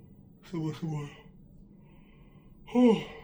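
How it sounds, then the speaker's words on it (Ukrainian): A person yawns audibly indoors, a drawn-out breathy vocal sound rising and falling, followed after a pause by a second shorter yawn-like exhale, close and fairly quiet. "О, що ж я так позіхаю?"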